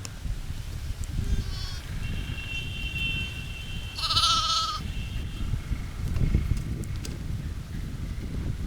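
Lambs and kid goats penned together inside a fence bleat in short calls, one sharp and close bleat standing out among fainter ones over steady wind noise.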